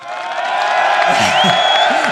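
Canned applause and cheering effect dropped into a comedy podcast, a crowd roar with whoops and whistles swelling up and holding loud while voices chatter faintly beneath.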